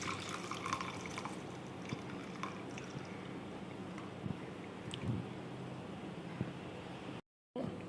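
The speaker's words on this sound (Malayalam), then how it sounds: "ഇനി നമുക്കിതിനെ ഒരു പാത്രത്തിലേക്ക് ഒന്ന് അരിച്ചെടുക്കാം" Boiled rice water strained through into a vessel, a steady close trickle and drip of liquid running continuously, with a brief cut-out near the end.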